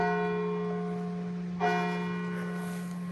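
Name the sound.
church bell ringing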